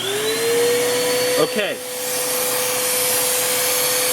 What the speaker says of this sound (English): Vacuum that hair up.